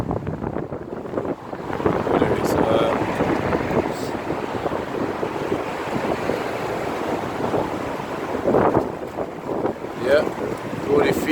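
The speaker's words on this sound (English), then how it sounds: "it is windy today" Strong wind buffets the microphone in loud, continuous gusts, with rushing roar and occasional sharper bursts.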